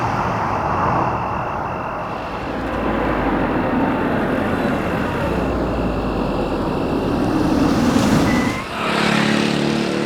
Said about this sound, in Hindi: आ गई हसीना जी की गाड़ी।